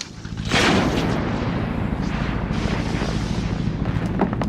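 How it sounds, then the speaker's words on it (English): An anti-personnel landmine detonates beneath a heavy wind-powered rolling device, a loud sudden boom that settles into a long rumbling roar and debris noise. "When it rolls over an anti-personnel landmine, it's heavy enough to detonate the explosive."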